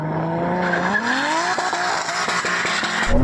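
A 700HP Toyota Supra and a BMW M3 drag race, engines loud and close with rising revs climbing through the gears and tire squeal, ending in a sharp burst.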